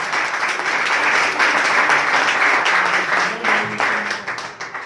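A congregation at a church service applauds Christ Jesus with loud, sustained clapping that swells and thins slightly toward the end, with faint voices mixed underneath.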